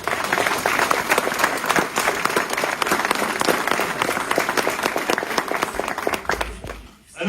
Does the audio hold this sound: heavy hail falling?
no